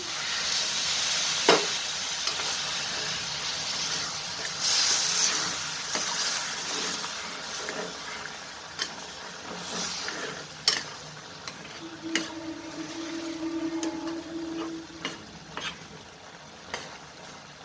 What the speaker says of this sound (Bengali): আমি হাই ফ্লেমে এটা একটু ফুটিয়ে নিলাম